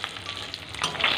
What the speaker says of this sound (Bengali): দেখে আছি ডিমগুলো ভাজা হলো কিনা আরেক পাশ